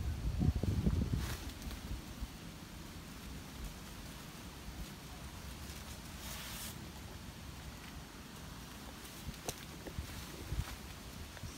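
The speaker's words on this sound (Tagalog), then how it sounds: "Napakalakas talaga ang hangin mga kamoks." Strong wind roars across an open outdoor spot during a bird hunt, a steady loud rumbling wash with buffeting gusts near the start and no voices.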